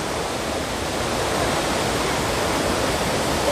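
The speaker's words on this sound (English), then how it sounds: "And let's see the waterfall." A waterfall in Karbi Anglong, Assam, roars as a loud, dense, unbroken rush of falling water, close and steady with no voices over it.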